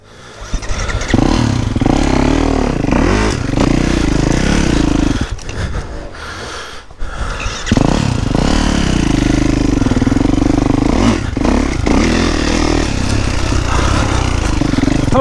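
A motocross bike ridden on a trail roars loudly and close, revving hard and continuously, with a brief drop in engine pitch midway before the throttle opens up again.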